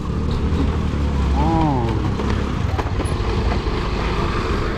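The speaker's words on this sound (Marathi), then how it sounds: "आता बघा मित्रांनो कशी गाडी चढवली जातो" A car rolls up onto a ferry boat on the Uran–Karanja to Revas crossing near Alibag. A steady engine rumble sits under a loud, constant background of traffic and boat noise, and a voice talks briefly.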